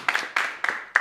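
Applause from a small audience at a medical science discussion event, heard as four quick, separate bursts of clapping in close succession, sharp and near.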